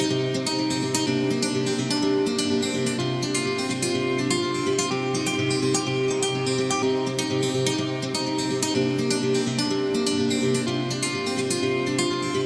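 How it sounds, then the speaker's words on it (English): Double-tracked guitars panned left and right, heard as a dense, steady wash of sustained chords and shimmering upper notes with no talk, played continuously and at a fairly even loudness throughout. "So now there are more guitars."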